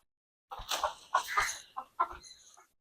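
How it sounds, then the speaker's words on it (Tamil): Chickens cluck in short bursts at a farm, several close, moderately loud calls spaced irregularly with brief pauses between them. "இங்க கொஞ்சம் கோழி இருக்கு."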